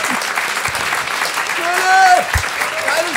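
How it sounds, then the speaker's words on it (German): Audience applause at a stand-up comedy talent contest semifinal, steady dense clapping that swells slightly toward the end, with a voice speaking over it. "Applaus."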